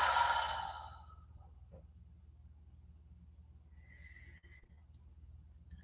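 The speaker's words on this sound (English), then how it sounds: "Exhale loudly through the mouth." A loud exhale through the mouth during meditation opens with a strong breathy rush that fades out within a second, followed by near silence with faint room noise.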